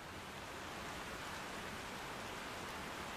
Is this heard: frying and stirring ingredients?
no